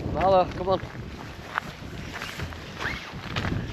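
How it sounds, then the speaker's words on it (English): Wind buffets the microphone in low rumbling gusts at a campsite while a person speaks briefly nearby. "Apologise for the wind noise because it is a bit windy"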